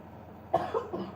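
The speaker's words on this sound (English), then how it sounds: "You are coughing." One person coughs close by in a quiet room, a short burst of two or three harsh coughs.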